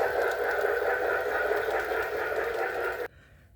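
A Weaver Pennsylvania K4 O gauge model steam locomotive with onboard sound runs with a steady, dense mechanical rumble and chuffing hiss. The sound cuts off abruptly near the end, leaving quiet background.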